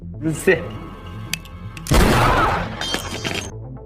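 A gunshot in a gangster film scene, one loud, broad blast with a rumbling tail, set among music and other film sounds.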